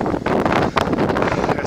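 Gusty wind buffets the microphone in a steady roar at an old abandoned fire tower lookout on a hilltop in northwestern Ontario, with brief lulls, loud and close throughout.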